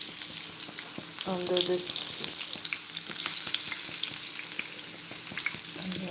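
Vegetables fry in hot coconut oil in a pot on a stove, giving a steady, close sizzle throughout with occasional stirring clatter and a brief voice hum partway through.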